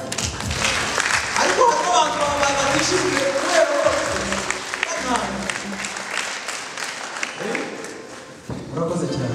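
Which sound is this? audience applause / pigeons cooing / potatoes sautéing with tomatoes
audience applause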